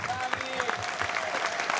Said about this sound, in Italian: Dai, facciamogli un altro bel applauso, ragazzi.